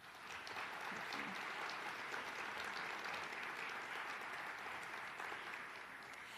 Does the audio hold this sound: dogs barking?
no